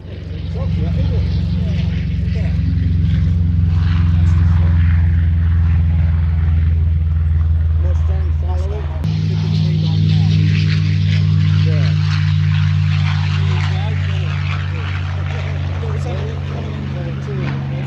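Propeller aircraft flying at the Sywell Airshow, a loud, steady engine drone that swells and continues throughout, with a slight shift in tone midway and no voices.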